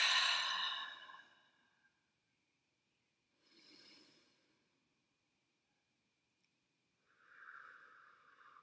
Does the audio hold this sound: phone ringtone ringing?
no